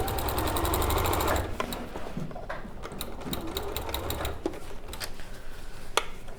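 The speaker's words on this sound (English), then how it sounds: "It's real world sewing, Fiona." Domestic sewing machine running in a short steady burst while stitching fabric for a weekend bag, a close mechanical whir that stops early, followed by quieter handling noises and small clicks.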